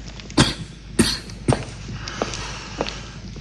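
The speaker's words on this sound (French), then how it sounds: "il a toussé toute la journée, toute la nuit." A man coughs several times in a row, sharp harsh bursts close by, followed by a few fainter throat sounds in a quiet indoor room.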